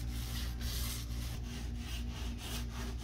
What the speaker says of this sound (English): I'm rolling this slow because I don't have any tarp down